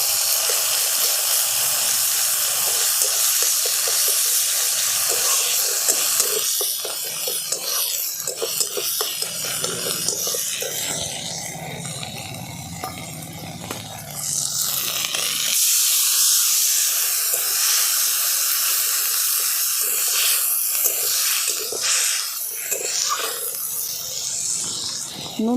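Ground coriander, cumin and ginger paste fries in hot oil with a loud, steady hiss and sizzle, broken by stirring scrapes, up close throughout with no voices.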